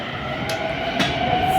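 A metro train departs a station on the Noida line, its steady rolling hum and high whine carrying on with a few brief clacks, moderately loud and without talk.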